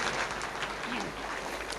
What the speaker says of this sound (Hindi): अब परम पूज्य श्री गुरुदेव जी के लिए एक बार जोरदार ताली बजा करके स्वागत कर।